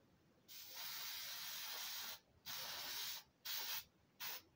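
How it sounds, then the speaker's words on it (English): An aerosol adhesive can hisses in four bursts, one long spray followed by three shorter ones, close and fairly quiet with pauses between. "I'm gonna spray this adhesive on"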